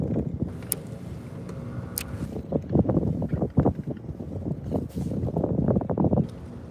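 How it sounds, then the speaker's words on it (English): Wind gusting across Lake Oconee while fishing for bass from a boat, rough buffeting and rumbling against the microphone in uneven surges, with faint splashes and no talking. "I cannot cast into that wind."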